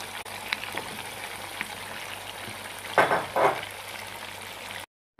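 Mutton trotters (paya) frying in spice masala over low heat: a quiet, steady sizzle with a few faint clicks and two brief louder scraping stirs near the end.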